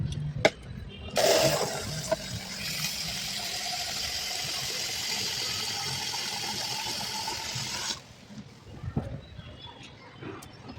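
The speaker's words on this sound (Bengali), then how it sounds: "গাছে জল দেব।" Water is poured onto potted plants at home in the morning, a steady splashing gush that starts abruptly, runs for several seconds and then stops, with faint background sounds before and after.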